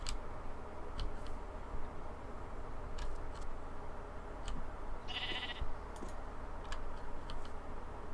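A sheep bleats in the Minecraft TerraFirmaCraft video game, one short nasal call midway, amid faint scattered clicks and steady background hiss.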